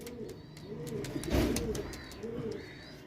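Pigeons coo in low, rolling calls repeated over and over, close by, with a little faint chirping and room noise behind them.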